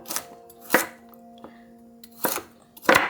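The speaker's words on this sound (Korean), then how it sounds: "당근은 굵게 썰 거예요" A kitchen knife slices carrots into thick pieces on a cutting board. Four sharp, separate chops land at an uneven pace, close and clear, with quiet gaps between them and no talking.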